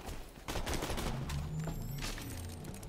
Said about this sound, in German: Ich schieße auf ihn